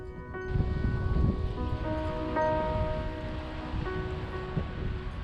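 Wind and crashing waves on the Isle of Skye coast, a broad continuous rushing roar with gusty swells, joined by a sustained tonal hum or whistle above it, no voices.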